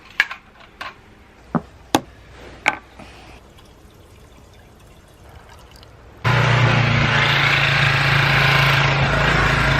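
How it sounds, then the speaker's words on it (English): A snow blower starts up abruptly partway through and runs loud and steady to the end, after a few sharp clanks and knocks against quiet background. "snow blowing right now"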